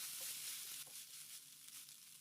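Cooked rice tossed with tempered cumin seeds sizzles and fries in a pan while being stirred, a steady soft crackle with occasional scraping, close by and with no talking.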